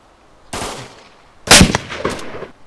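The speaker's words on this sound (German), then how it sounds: "Auf mich wird geschossen, aber woher?" Gunfire in the video game DayZ, a couple of sharp, loud shots with a short rattling tail after them, separated by brief quiet, with no talk.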